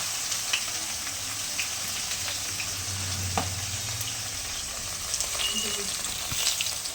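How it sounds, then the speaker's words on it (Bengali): Pieces of bhetki fish fry in hot white oil in a home kitchen, giving a steady sizzling crackle with occasional sharper pops and a brief scrape of utensils. "মাছগুলো ভেজে নিলাম।"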